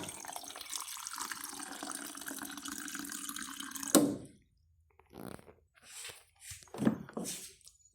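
Water running from a tap fed by a water tank, a steady splashing flow that cuts off abruptly, followed by drips and light handling noises.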